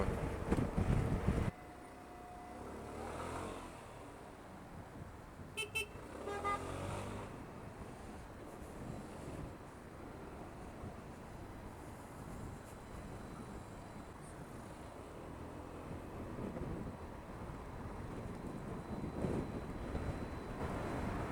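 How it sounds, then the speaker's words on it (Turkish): Strong wind buffets the microphone in a steady roar while riding a motorcycle in morning traffic, with a brief rattle near the start and occasional gusts throughout. "Çok rüzgar var bu sabah."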